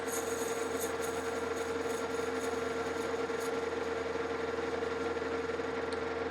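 A milling cutter chamfers the top edge of a ratchet dog for a capstan winch drum, producing a continuous steady machine whine and hum with a strong tonal drone, close and unbroken, with no speech.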